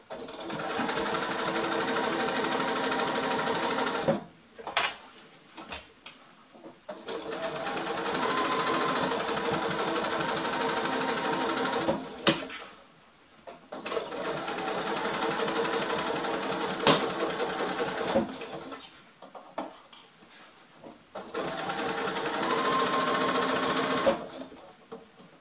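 Sewing machine stitching a quilted Christmas stocking in four long runs of steady, close-up whirring, each separated by brief pauses and small handling noises.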